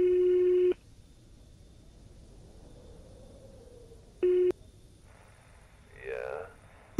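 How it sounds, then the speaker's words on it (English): Phone ringing in the Greyhill Incident video game: two bursts of a steady electronic tone with a pause between, clean and close, followed by a short voice-like sound near the end. "Please pick up the phone."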